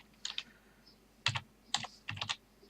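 Short bursts of keystrokes on a computer keyboard, entering a command on a Minecraft server, come in three quick clusters with pauses between them, close and fairly quiet, with no talking.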